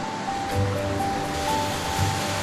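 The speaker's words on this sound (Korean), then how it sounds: "사시사철 맑은 물이 흐르는 가지산. 잘 발달된 계곡과 폭포로 유명한 산." Clear water of a mountain valley on Gajisan rushes steadily past, a continuous broadband roar of stream and waterfalls with faint swells and no voices.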